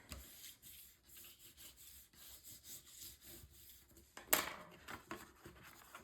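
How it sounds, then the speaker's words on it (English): A tool rubs firmly along a paper score line to burnish it flat, producing soft, rhythmic scraping strokes, close and quiet, with a sharper scratch near the end. "And then I'm going to burnish this down."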